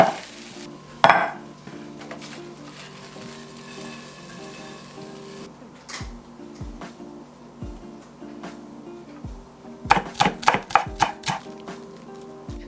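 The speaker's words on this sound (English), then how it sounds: "chop up a bunch of veggies, and just throw them all into the frying pan, saute it up really quickly" Vegetables are chopped and then tossed into a frying pan for a quick vegan stir fry. A soft kitchen hum runs under scattered knocks, followed by a burst of rapid, sharp knife taps on a board near the end.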